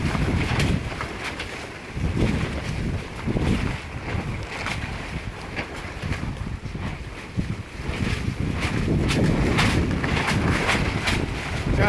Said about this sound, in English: How strong that wind is.